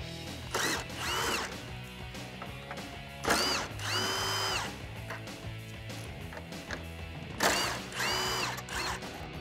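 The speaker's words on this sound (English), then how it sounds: "grab your 10 millimeter socket and let's get these out" Several bursts of a power tool whirring and winding as it backs out grille bolts with a 10 mm socket on a 2019-2020 RAM 1500 pickup, each run a couple of seconds long, with ratcheting clicks and quiet gaps between.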